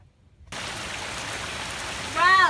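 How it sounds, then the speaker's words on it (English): Rain begins falling on a sailing boat, a sudden steady hiss of drops on the deck that starts after a brief silence and carries on evenly, with a short rising voice-like sound at the end. "Wow, finally rain."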